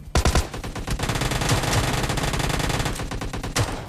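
Automatic gunfire in the mobile shooter PUBG Lite: rapid bursts of rattling shots, loud and sharp, with short gaps between volleys and a final burst near the end.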